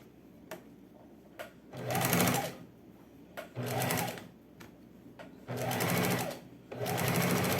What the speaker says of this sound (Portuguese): Volto no outro sentido, passando o meu zigue-zague.